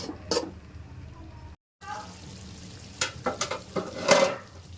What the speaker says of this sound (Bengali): বেগুন অনেকটাই কষানো হয়ে গেছে, আর একটু কষাবো